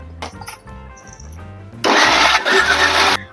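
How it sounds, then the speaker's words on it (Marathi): A kitchen mixer grinder starts up and whirs loudly for over a second as it grinds raw mango pieces into paste, preceded by a few clatters of handling. "आता आपण हे मिक्सरमध्ये वाटून घेणार आहोत"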